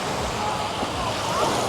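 Sea waves washing onto a sandy beach make a continuous broad rushing wash, mixed with wind buffeting the microphone.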